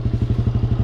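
Motorcycle revving hard in a swamp during a burnout, a steady pulsing engine drone with rhythmic thumping about ten times a second, close and loud, with no talking.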